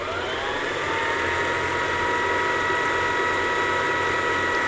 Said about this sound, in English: It's a pretty good speed for a bobbin winder.